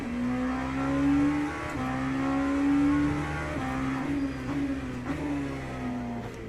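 An LMP2 prototype race car in the Le Mans Ultimate sim at Daytona, its engine holding a loud, close, steady tone that rises through the gears with brief dips at each shift.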